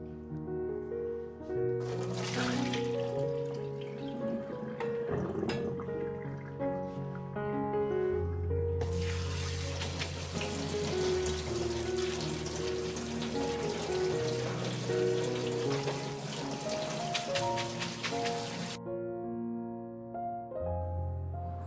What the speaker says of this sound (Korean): 채선 야채는 물로 두어 번 헹궈 전분기를 빼고